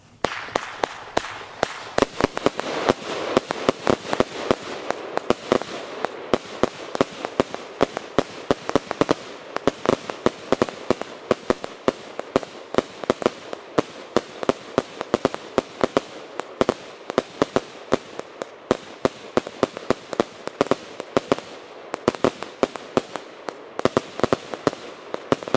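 A Triplex firework cake fires in an outdoor Polish fireworks test, a dense rapid crackle of sharp bangs and pops going on nonstop for about half a minute, loud and close.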